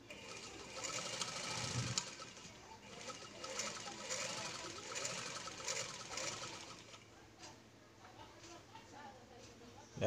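Sewing machine stitching through test fabric after a repair for a broken needle, a steady fast whirring run for most of the clip that fades toward the end, with faint bird cooing in the background.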